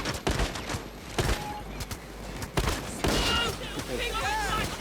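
Turret gunfire in Payday 2, bursts of loud, close automatic shots hammering in uneven volleys over dense game noise, with voices talking over the firing.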